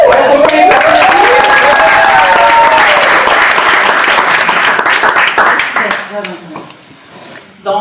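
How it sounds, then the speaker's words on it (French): Loud, dense applause from a church gathering audience fills the room, mixed with cheering voices, then tapers off and fades near the end. "est-ce qu'on peut les applaudir?"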